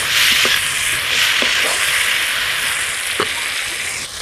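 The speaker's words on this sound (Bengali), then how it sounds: "মশলাটা ভালো করে কষিয়ে নিচ্ছি।" Spices, green chilli and chopped tomato being fried and stirred in a pan for a rohu fish curry with cauliflower, a loud continuous sizzle close by with a few soft spoon strokes and no talk.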